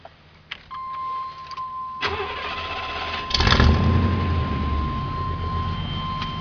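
A Ford truck fitted with dual exhaust cranks over and fires at about two seconds, then settles into a loud, rumbling idle with a deeper surge near three and a half seconds; a steady whine sits above it throughout.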